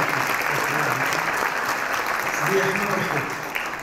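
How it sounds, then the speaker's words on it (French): An audience at a conference on carbon taxation in Morocco applauds the panel members, a steady wash of clapping from a crowd with a few voices murmuring underneath. "Je vous invite à applaudir tous les membres de ce panel"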